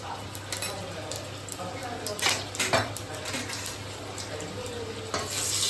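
Whole cumin seeds and dried red chilli sizzle in hot oil in a pan, a steady frying hiss with spoon clinks and scrapes beneath a voice speaking.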